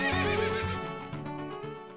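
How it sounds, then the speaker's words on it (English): The horse Epona in Zelda: Ocarina of Time gives a loud, clear neigh as a single whinny that trails off, with a few hoof clops mixed in. "Do I actually have to bring a Epona with me?"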